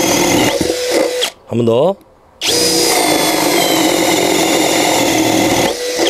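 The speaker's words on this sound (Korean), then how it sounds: "자, 20mm 나비 비트로 목질 한번 뚫어보겠습니다." A hammer drill with a 20mm spade bit bores into wood, whining loudly and almost continuously, cut by one short pause where the motor spins down and back up, while someone talks over it.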